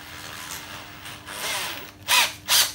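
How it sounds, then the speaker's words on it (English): A power drill countersinks screw holes in a wooden jig, a steady whir building over the first two seconds, then two short, sharp bursts of cutting close up near the end. "I'll just countersink those"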